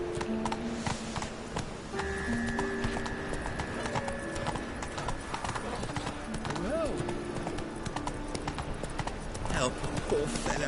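Horse hooves clip-clop at a steady galloping rhythm in The Witcher 3, close and continuous throughout, with a rider urging the horse on, game music tones and occasional voices over the hoofbeats.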